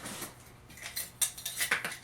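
Small metal emergency cooking pots clink and rattle lightly against each other, a scattered series of quiet metallic taps and jingles close by with no talk.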